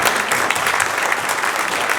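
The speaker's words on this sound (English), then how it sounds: "So you guys should give yourself a round of applause for that." Dense, steady applause from an audience at a county Republican candidate forum in Idaho, continuous and fairly loud throughout with no break.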